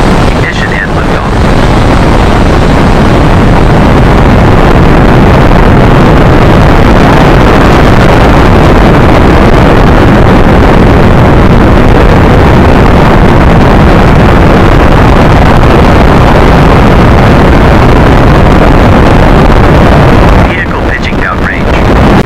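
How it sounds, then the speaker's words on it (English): Rocket engine ignition and liftoff in the Spaceflight Simulator game, a loud, continuous broadband roar that holds steady for about twenty seconds before easing off near the end. "Ignition and liftoff."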